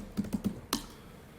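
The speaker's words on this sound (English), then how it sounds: "a little bit slow on the typing there." Several keystrokes typed on a computer keyboard while demonstrating a simple console chat app, four soft clicks spaced unevenly at moderate volume with no talking.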